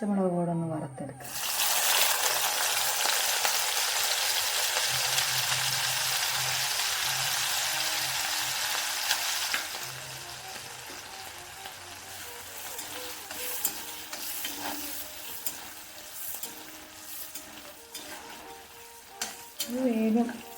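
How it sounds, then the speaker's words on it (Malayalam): Green chilies sizzle in hot oil in a pan for a Vaikom-style Onam sadhya ginger curry, loud crackling frying at first that settles into softer sizzling with stirring scrapes and occasional faint voices. "പച്ചമുളക് കൂടെ ഒന്ന് വറുത്തെടുക്കാം."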